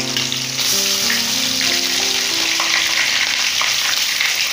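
Chopped onion hits hot oil with curry leaves already in the pan, producing a steady, loud, close sizzle of frying that holds evenly throughout.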